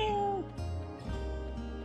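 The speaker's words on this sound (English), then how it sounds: "Oh, we got a kitty." A cat in a video game gives a short meow near the start, over a steady background of game music and ambient tones, fairly faint.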